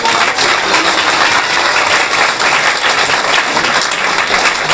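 Loud, sustained applause fills a Hindi Christian church service, the congregation clapping densely and evenly throughout without any speech.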